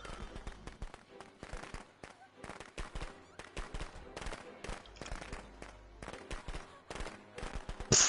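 Rapid crackling bursts of firecrackers in the video game Friday the 13th pop continuously, dense and loud, with a sharper burst at the end.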